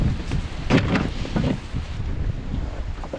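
Strong wind gusts buffet the microphone in bursts, rising and falling over a steady outdoor rush of air and water on a canoe trip.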